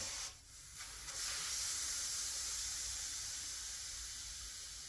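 A steady, loud hiss of pressurized nitrogen rushing out, continuous and unbroken after a brief dip at the start.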